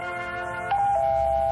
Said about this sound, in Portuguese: A campainha.